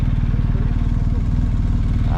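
A motorcycle engine runs close by, a loud, steady low throb with a rapid pulsing rumble and no clear revving.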